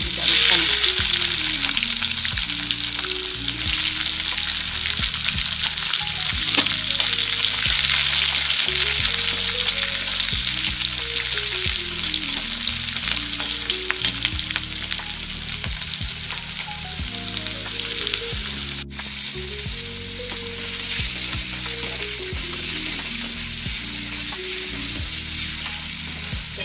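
Chopped onion fries in hot oil with green chillies and curry leaves, making a continuous close sizzle and hiss that holds steady throughout under a bed of music.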